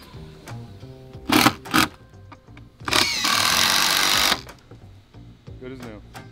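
A power drill drives screws into deck skirting boards in short bursts, two quick whirs followed by a longer sustained run, with someone talking in between.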